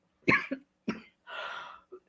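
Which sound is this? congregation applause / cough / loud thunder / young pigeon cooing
cough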